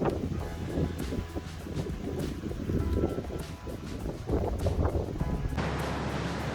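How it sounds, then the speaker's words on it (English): Waves roll and wash ashore at Cocoa Beach with steady wind buffeting the microphone, a continuous rushing surf with no talk. "just the crashing of the waves"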